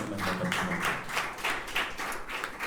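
A congregation claps together in a steady, fast rhythm, a bright, even wash of many hands sustained throughout, with no voices over it.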